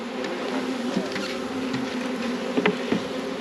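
A honey bee buzzes close by at a beekeeper's hive installation, a steady droning hum with a few sharper wingbeat flickers, no voices over it.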